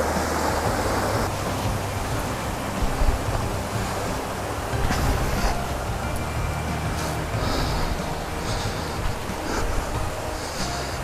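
The Tümbi mountain stream in the Trabzon highlands rushes steadily, a constant broadband wash of flowing water, with some wind buffeting the microphone and no voices.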